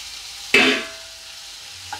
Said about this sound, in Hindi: इसे भी अच्छे से भून लेंगे।